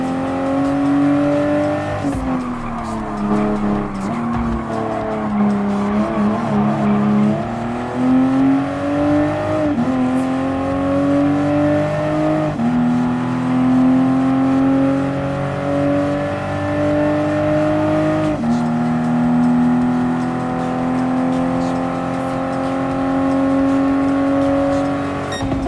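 A Toyota GR Supra RZ in the video game Gran Turismo Sport, its engine droning steadily as it drives. The pitch rises and falls with gear changes and throttle, loud and continuous throughout.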